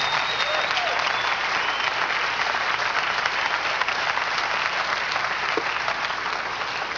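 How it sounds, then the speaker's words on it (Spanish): A Spanish-speaking church congregation claps loudly in praise during a service, producing a sustained wash of many hands clapping at a steady level for about seven seconds. "Denle un aplauso fuerte al Señor."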